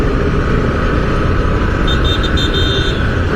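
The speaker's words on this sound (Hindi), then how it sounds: "तो अभी फिर से आगे जाने के बाद एक ट्रैफिक है" Steady road traffic on a busy street in Bangalore, with a continuous broadband rumble of car and motorbike engines close by, and a faint high-pitched tone appearing briefly near the end.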